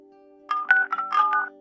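A telephone number is dialed: a quick run of short electronic keypad tones in an uneven sequence, clear and close, over a faint steady hum, with no voices.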